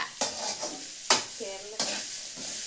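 Chicken masala being sautéed in a home kitchen pan, a few scraping stirs with a soft sizzle and a brief clink of the utensil, close and clear with no talking.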